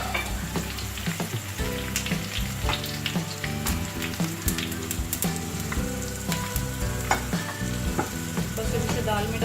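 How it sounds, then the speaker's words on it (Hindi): Cumin, ajwain and red chili sizzle in hot oil with browned onions for masoor dal tadka, a steady loud frying hiss with clinks and scrapes of stirring throughout, no voice. "अब इसमें जीरा, अजवाइन और सूरख मिर्च डाल दूंगी मैं।"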